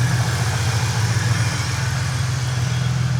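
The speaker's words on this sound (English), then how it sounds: "So now without air leaks, it idles." An EFI car engine, running again once its vacuum leaks are fixed, holds a steady low idle with an even, continuous hum and slight vibration, close up, with no voices.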